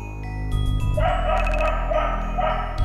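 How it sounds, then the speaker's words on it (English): A dog in a Halloween video game gives a few quick, close yips and barks over a steady game soundscape, with a chime-like ding partway through. "Oh, dog."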